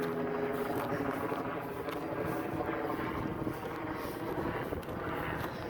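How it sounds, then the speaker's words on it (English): A helicopter passes overhead above open desert, a low, steady rotor rumble mixed with gusting wind noise against the microphone. "There's a helicopter overhead."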